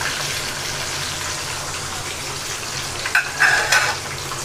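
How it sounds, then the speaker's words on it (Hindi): Fish pieces fry steadily in a pan of hot oil, a dense continuous sizzle close up, with a couple of brief louder spatters near the end and no talk. "कितने अच्छे से फ्राई हो गए हैं देखिए"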